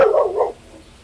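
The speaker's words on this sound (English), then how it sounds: "Are these dogs extra loud?" A single loud, close dog bark rings out sharply for half a second, then fades into quiet outdoor background.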